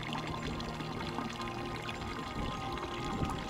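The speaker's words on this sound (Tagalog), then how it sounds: "Paminsan-minsan may madadaan ng bukal ng malinis na tubig." Clean spring water flows and pours steadily close by, a continuous rushing splash that holds at an even level throughout, with faint background ambience.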